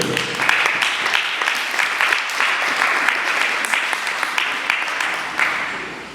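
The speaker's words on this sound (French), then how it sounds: "Est-ce qu'on peut acclamer s'il vous plaît?" Audience at a Congolese community evening in Drummondville applauding and cheering for a DJ from Montreal: dense, sustained clapping with shouts throughout, loud and steady, no talk.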